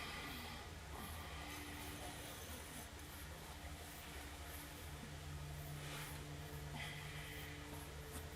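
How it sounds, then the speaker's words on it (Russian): A steady low rumble of an electric commuter train rolling past, continuous and fairly distant, with faint hissing and a few brief high squeals. "Скоро электричка."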